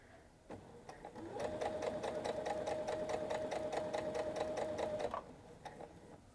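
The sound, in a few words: sewing machine sewing fabric piping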